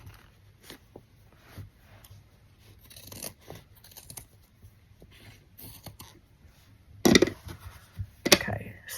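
Scissors cutting fabric for a coffee table vessel, a series of soft snips and rustles spaced irregularly, with louder crisp cuts near the end.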